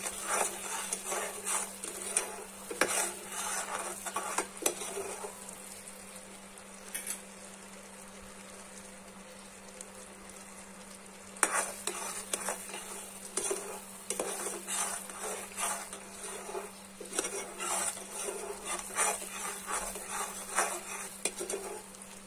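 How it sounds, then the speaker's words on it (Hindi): Homemade sugar wax bubbles on low heat in a pan while a utensil stirs it, producing a steady low hum with repeated scraping and light clicking strokes that come in bursts over a long stretch, close and soft, without talk. "इस तरह से आपने धीमी आंच में इसको बॉईल करना है।"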